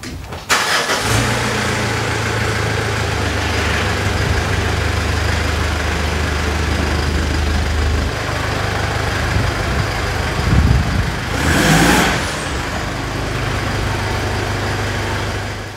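A Mitsubishi Pajero's engine hums steadily as the car turns around, a close, even drone with a brief start at the beginning and a swell of revving partway through.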